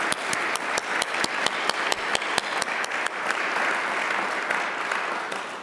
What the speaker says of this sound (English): So please stand up, board members, and get a round of applause.